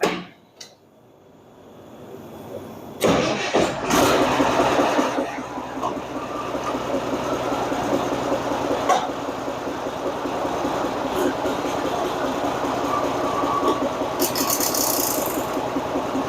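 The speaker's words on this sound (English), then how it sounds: "As soon as the tractor starts moving, which means the engine clutch is engaging" International Harvester TA tractor engine running and pulling away as the clutch engages, a steady loud mechanical rumble with rattling that starts abruptly after a quiet moment and continues throughout.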